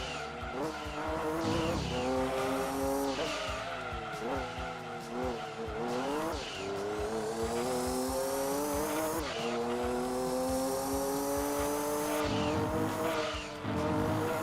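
Race car in the video game Gran Turismo 2, a loud sustained engine whine rising and falling through gear changes, with tire squeal and skidding as it corners.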